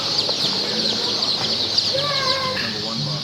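Blue-laced red Wyandotte chicks cheeping in a dense, steady chorus of high chirps, with a few clearer, louder peeps rising over the constant background chatter of the flock.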